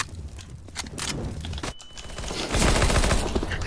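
Gunfire in the video game Counter-Strike: Global Offensive, a dense burst of automatic shots and game sounds that swells louder in the last second, with no speech over it.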